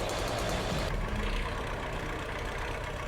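Engine of an old classic tractor stuck in deep mud in a forest, a loud, steady low rumble that drops slightly in intensity after the first second and runs alone without talk.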